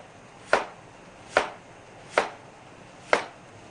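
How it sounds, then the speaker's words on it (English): Knife slicing tomatoes and onion on a cutting board in a restaurant kitchen, four crisp, evenly spaced chops standing out clearly against a quiet background. "I just want to slice some tomatoes and some onion"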